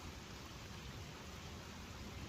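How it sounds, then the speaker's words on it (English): Steady rain falls outdoors as a dense, even hiss that stays constant throughout, with no voices over it. "It's raining. You like the sound of rain?"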